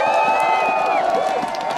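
Baseball fans cheering and applauding a home-run hero in a stadium, a loud, continuous roar of crowd noise with scattered clapping and shouts, a whistle-like tone rising above it early on.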